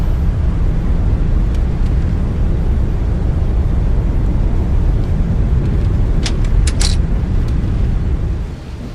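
An airliner brakes through its landing rollout at LAX in Flight Simulator X, giving a loud, constant roar of engine and wheels. Faint clicks come near the end as the roar eases off.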